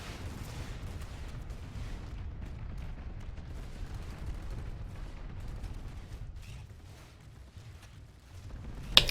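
Burster MAX weapons firing in the video game PlanetSide 2, rapid repeated flak-like bursts forming a dense, steady barrage that dips briefly near the end before a sharp final crack.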